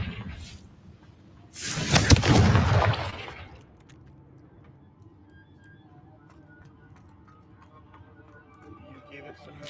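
In the Hogwarts Legacy video game, a Confringo fire spell goes off as one loud, close burst lasting about a second and a half, then fades to a quiet background with faint scattered sounds.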